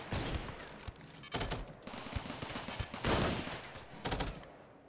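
Gunfire in the Rimworld video game with a sniper rifle among the weapons, dense overlapping bursts of shots and thuds in repeated volleys, loud and continuous with no talking.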